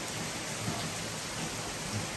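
A heavy thunderstorm during Hurricane Idalia on Florida's Nature Coast, with dense steady rain hiss and low rolling thunder rumbles, recorded at dawn outside a house.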